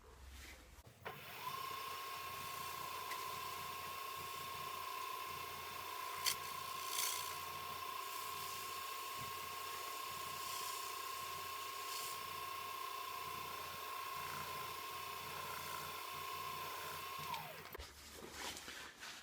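A wood lathe's steady whirring hum with a constant tone runs throughout, with faint scratchy rubbing of 0000 steel wool on a sealed ash platter over it, starting and stopping abruptly.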